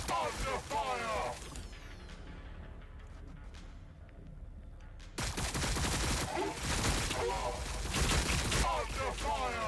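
Gunfire from Warhammer 40K Battlesector, a turn-based strategy game: dense volleys of shots rattle loud and close, ease off midway, then return heavier, with a voice talking through much of it.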